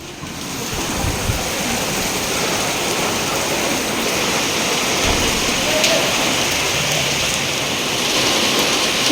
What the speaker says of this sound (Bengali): সেটা অন্য লেভেলে বৃষ্টি হচ্ছে